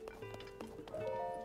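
Horse hooves in the video game Tears of the Kingdom, a short quiet run of soft clip-clop steps lasting about a second and a half, with faint game tones ringing underneath.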